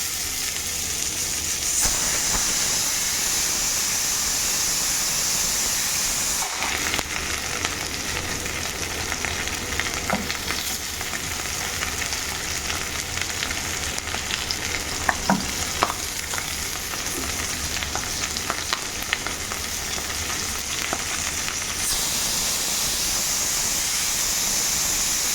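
Fish sizzles and fries in oil in a kadai, a steady close crackling hiss that keeps going throughout, with faint clinks and stirring noises now and then and no voices.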